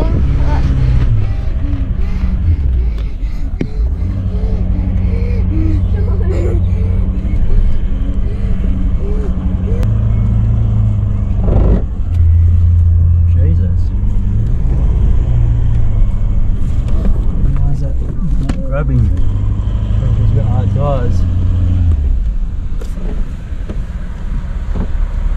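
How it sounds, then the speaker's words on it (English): A 4WD vehicle drives down a track toward the beach, heard as a loud, continuous engine rumble and road noise with heavy wind buffeting the microphone throughout. "We are driving down to the beach now."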